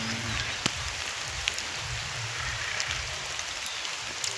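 Steady rain falls outdoors in a dense, even hiss with scattered sharper drips, constant and fairly close throughout.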